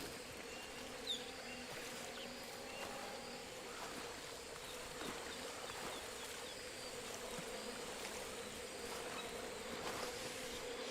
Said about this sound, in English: Those bees are louder than the original.